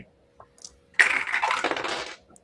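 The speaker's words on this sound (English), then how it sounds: "I did that all individually because I just love the sound of my dice tower." Dice tumble down a dice tower in one sharp clattering burst that rattles on for about a second before settling, with a few faint clicks beforehand.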